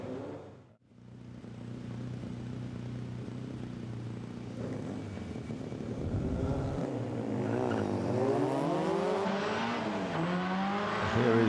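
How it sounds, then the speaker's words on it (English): Porsche race car with a long Sports Car Club of America racing history charging up the Chateau Impney hill climb course, engine note rising from a distant drone to a loud, revving wail as it accelerates through gears. "the Kilpatrick Porsche. And up he goes, he goes straight on"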